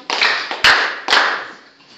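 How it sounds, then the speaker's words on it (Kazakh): A small group of schoolchildren in a classroom claps briefly, the applause coming in three quick surges that each fade away. "Жақсы, ендеше Аржанға шапалақ"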